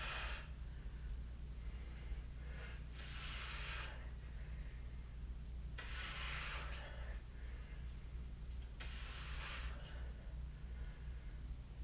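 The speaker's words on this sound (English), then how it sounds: "Exhale as you come up." Heavy, forceful exhales during a home chest and back workout, about four long breathy bursts spaced a few seconds apart, close and alone over a low hum.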